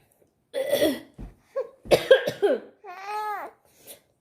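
A small child coughs a few times in short, breathy bursts, then lets out a higher whimpering vocal sound, close by in a quiet room.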